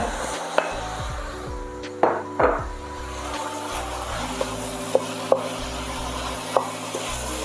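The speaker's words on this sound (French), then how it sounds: "une fois que notre bœuf a bien coloré sur les deux faces, on vient ajouter nos oignons et notre ail" Onions and garlic go into a pan of browned beef, with brief thuds and clacks as they drop in and are moved about, over a steady low hum and light sizzle, close by with no talk.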